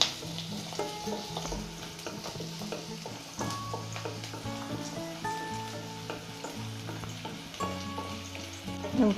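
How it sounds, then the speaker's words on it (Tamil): One onion fries in a pan for a ladies finger curry, a soft continuous sizzle with repeated scraping stirs and light clinks, close but fairly quiet, no voices. "ஒரு ஆனியன், ஆனியன் நல்லா ஃப்ரை ஆகட்டும்."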